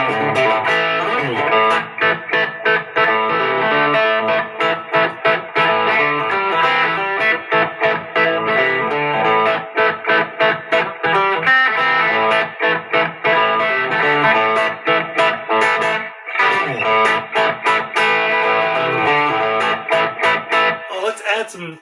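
Acoustic guitar strummed steadily through its pickup blend control with overdrive engaged, producing a loud, continuous, gritty chorded drive that fills the whole stretch, with brief gaps between strums and no talk.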